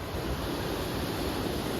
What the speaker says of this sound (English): So the waves are crashing over there.